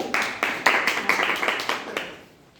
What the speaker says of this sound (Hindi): ताली बजा दो उसके लिए